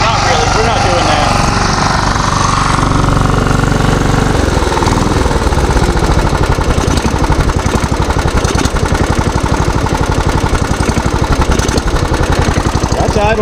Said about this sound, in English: That's idled all the way down.